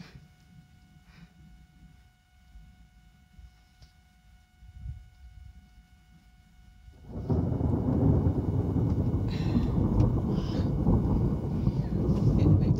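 A July thunderstorm in Somerset starts quiet and distant, then a heavy burst of rain and rumbling thunder swells loudly around halfway through and stays dense and close until the end.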